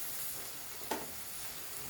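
Prawns frying with Kashmiri chilli and spices in a pan, a faint, steady sizzle with one brief louder stir sound partway through.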